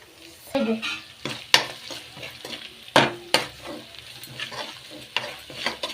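A spoon stirs turmeric, coriander and chilli powder with salt as they fry in a pan over a low flame for egg rice. Scraping strokes recur irregularly over a soft, steady sizzle, close and fairly loud.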